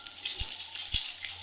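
Asparagus pieces hit hot olive oil for a risotto, giving a quiet, steady sizzle with two soft thumps as the pieces drop into the pan.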